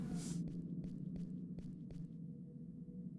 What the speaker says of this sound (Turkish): Ayak sesini duydum.